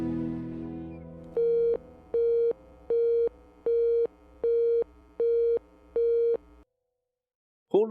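A telephone busy signal from a call that will not connect: seven even, steady beeps in a regular on-off rhythm, clear and close, then silence.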